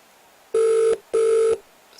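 Phone-a-friend calling tone in a Game Boy Advance quiz game: two identical steady electronic ring bursts, each about half a second long, separated by a short gap and clear with no talk.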